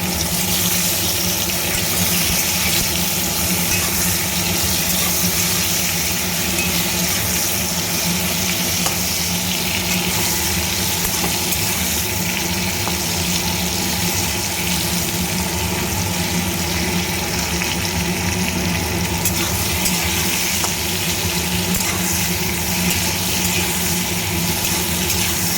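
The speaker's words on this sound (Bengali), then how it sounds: "আর একটু ভেজে নিচ্ছি।" Pieces of pointed gourd (potol) fry in oil with a loud, continuous sizzle that holds steady for a long stretch, with no voices over it.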